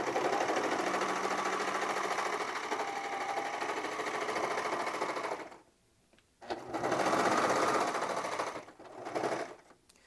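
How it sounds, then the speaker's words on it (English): A serger stitching through a fabric seam on a misses dress, a fast steady mechanical whir that runs continuously, stops briefly, then restarts in shorter bursts, close and alone. "we'll go over to the serger real quick. And then I'm just going to serge through that."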